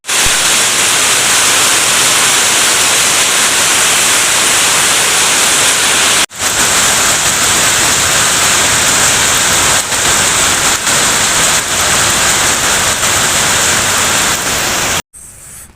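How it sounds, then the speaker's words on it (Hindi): Heavy rain pours on a tin roof in a loud, dense hiss that barely changes, apart from two brief cutouts, with no voices over it. "बाहर में कितना खतरनाक तरीके से बारिश हो रही है"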